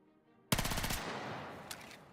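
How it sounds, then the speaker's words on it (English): A Battlefield gun starts firing abruptly after silence and keeps shooting in a rapid, continuous automatic stream, loud and close, with one sharper crack late on. "Is it still shooting nonstop? It is."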